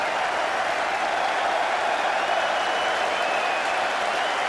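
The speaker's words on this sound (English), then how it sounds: "Oh, look at the applause." The crowd at the 2005 Ashes fifth Test between England and Australia breaks into steady, sustained applause. The clapping is broad and even from a large stadium audience.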